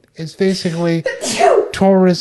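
A single sharp, close sneeze bursts out in the middle of a person's ongoing speech, with talking just before and right after it.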